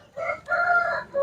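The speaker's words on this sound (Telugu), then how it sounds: "ఇవి పుంజులు ఉన్నాయి, అలాగే పెట్టలు ఉన్నాయి" A rooster crows loudly and close at an Anantapur country chicken market, one drawn-out call with a brief cut-off start at the end, over faint background murmur.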